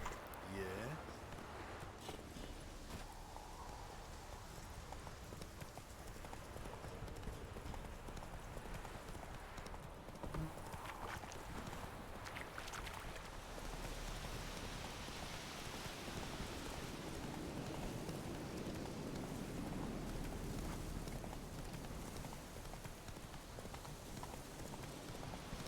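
Horse hooves clip-clop steadily in the video game Witcher 3, a continuous rhythmic trot with rain-like patter, heard under a person talking.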